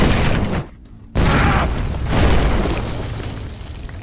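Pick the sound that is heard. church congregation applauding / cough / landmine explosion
landmine explosion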